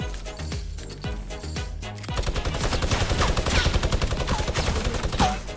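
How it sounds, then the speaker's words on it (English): Rapid bursts of automatic gunfire from a Fortnite battle royale match, dense and continuous after a few opening single shots, loud and close throughout. "We're getting shot from both sides."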